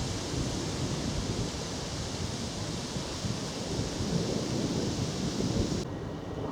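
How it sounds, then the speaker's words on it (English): A northerly wind blows outdoors on a winter countryside walk near Baldock with drizzle in the air. It makes a steady, moderately faint broadband rushing roar that holds for several seconds with no speech. "This northerly wind now picking up"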